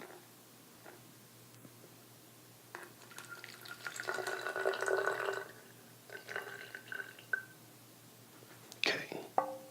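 About 50 milliliters of water is poured onto a sanitary napkin, making a soft gush and trickle that swells for a couple of seconds, then fades into scattered faint drips and rustles.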